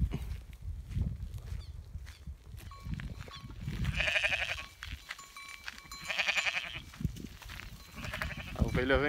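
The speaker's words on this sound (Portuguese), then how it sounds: "A ovelha vem doida ali atrás." A Dorper ewe that has just lambed on a small farm bleats three times, loud, drawn-out and close, with rustling, shuffling movement and some voices in between.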